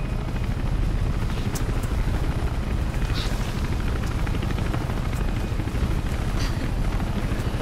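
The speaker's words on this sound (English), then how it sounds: "Helicopter's loud." A helicopter's rotor in Mirror's Edge thumps in a fast, steady chop, loud and continuous, with a few faint clicks over the top.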